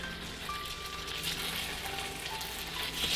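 Spicy pork and onions frying in a pan, a steady close sizzle that holds at an even level throughout, with faint stirring and light clinks.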